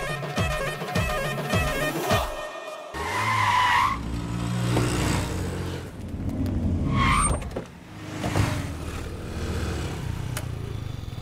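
A car engine revs loudly and tyres squeal and skid as it is driven off to be parked, with bursts of acceleration and a couple of sharp screeching passes.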